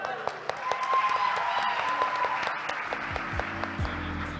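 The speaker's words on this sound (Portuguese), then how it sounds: "Aplauda o Senhor aí." Church congregation applauding, fairly faint scattered clapping with a voice speaking over it.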